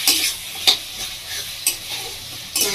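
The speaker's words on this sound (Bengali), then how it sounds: "ঘিটা দিয়ে একটু নাড়াচাড়া করে নেব" A spoon stirring fish head and radish frying in ghee in a pan, with a steady sizzle and a few sharp scrapes and clinks spaced through it.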